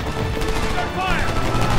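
Gunfire during the wall mission in Homefront, sustained rapid shots blending into a dense, loud battle din with voices under it.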